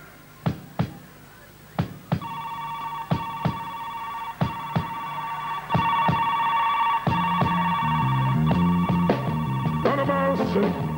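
A cellular phone rings with a repeating electronic tone over sharp, regular percussive knocks, loud and close, building into a busier melodic pattern near the end.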